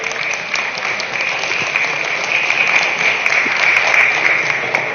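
Applause fills a parliamentary plenary session chamber, a steady, even wash of many hands clapping at moderate distance throughout, with no speech over it.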